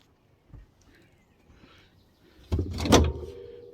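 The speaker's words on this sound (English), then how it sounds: "So you got to slide that door out." The access door of an RV cabinet in a wet bath slides out with a soft scrape, then a louder rattling clatter near the end, heard close up with no one talking.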